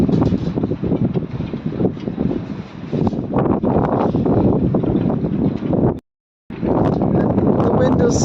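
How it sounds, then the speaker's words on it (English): Strong winter wind of 20 to 40 knots howling over a sailboat at sea off Denmark, loud and unbroken, buffeting the microphone with heavy roaring gusts that drop out for a moment near the end. "The wind is continuing."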